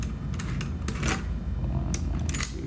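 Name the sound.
removing two screws from back of cylinder lock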